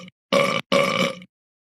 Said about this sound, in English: I can't believe you burped in my face.